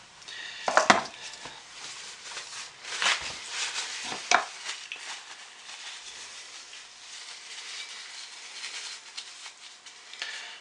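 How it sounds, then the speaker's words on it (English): The head of a stick blender used for soap making is cleaned, giving a few sharp clicks and clacks followed by soft scraping and wiping, close and moderately quiet. "Let me clean the head up real quick."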